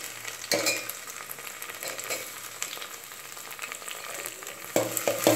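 Chopped tomatoes added to small onions already browned in hot oil, a steady close sizzle with a sharp burst as they hit the pan and brief stirring clatter.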